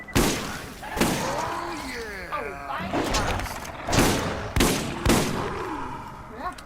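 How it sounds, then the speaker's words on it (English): Shotgun fire in the Borderlands game of the year edition, heard as several loud, sharp blasts spaced about a second apart, with game sounds and some voice activity between shots. "Shotgun will work with these."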